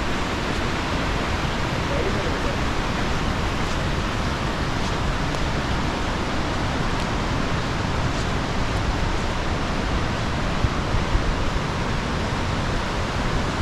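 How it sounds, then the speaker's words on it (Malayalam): A small waterfall along the Kheerganga trek near Kalga village rushes in a steady, loud broadband roar that holds unchanged and close throughout, with no voices. "ഇവിടെ പോകുന്ന വഴിക്ക് നമുക്കൊരു വെള്ളച്ചാട്ടം കാണാം"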